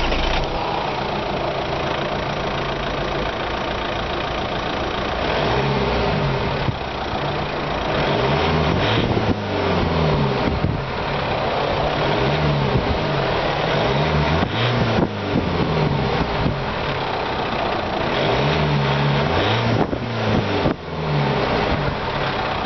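A 2012 Opel Insignia Sports Tourer Elite ecoFLEX engine heard from inside the cabin at around 3000 RPM, a steady, muted mid-low hum with faint road rumble, continuous and fairly quiet.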